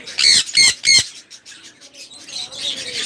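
Harsh squawks from several pet birds at a bird farm, three loud calls in quick succession at the start, then softer chirping and chatter continuing behind them.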